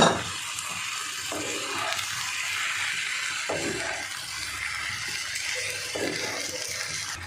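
Pasta, potatoes and a spice mix sizzle and scrape as they are stirred in a pan, with a continuous frying hiss broken by several distinct stirring strokes and clatters.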